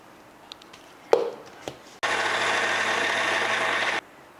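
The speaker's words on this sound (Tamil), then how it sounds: "இப்போ தண்ணி ஊற்றி அரைச்சிக்கலாம்." Mixer grinder grinding soaked peanuts and rice with water and a spoon of sugar: a few light clicks and knocks, then a loud, steady whirring roar that runs for about two seconds and stops abruptly.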